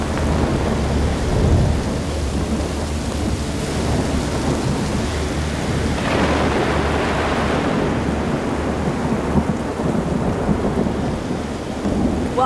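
A thunderstorm with heavy rain hissing steadily throughout, low rumbles of thunder rolling underneath and a louder crack near the middle, with no voices.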